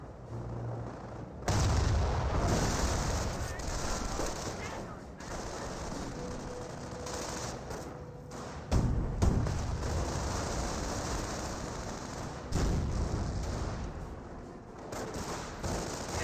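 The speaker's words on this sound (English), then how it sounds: "Rifle squad receiving a bit of fire from Panzer Grenadier" Gunfire from Panzer Grenadiers hits an American rifle squad in the WWII strategy game Company of Heroes: steady crackling small-arms fire with heavier booms, loud and continuous throughout amid general battle noise.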